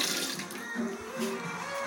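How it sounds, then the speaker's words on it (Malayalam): Running tap water splashes steadily into a sink while a paint brush is rinsed clean of paint, a continuous moderate rush with small shifts in the flow and no talk. "നമുക്കപ്പോ പെയിന്റും ബ്രഷ് കഴുകിയിട്ട് വരാം."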